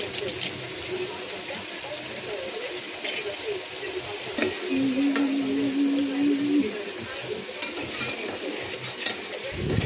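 Mutton masala fries and gets stirred in a pan for a spicy green-chilli mutton curry, a steady close sizzle with scraping stirs and a brief tonal whine partway through.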